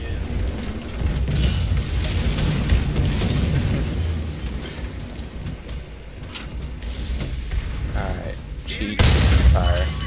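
Tank cannon fire in the War Thunder video game, American and Russian tanks in combat, with heavy booming blasts over a continuous loud rumble of engines and battle, with a sharp loud shot near the end and a voice talking over it.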